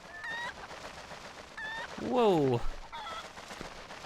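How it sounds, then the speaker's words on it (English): In The Legend of Zelda: Twilight Princess, a gold chicken lets out short squawks and one longer, louder honking cluck in the middle, over a low game background, with a brief voiced exclamation from a player. "Of course, Russell just has a gold chicken."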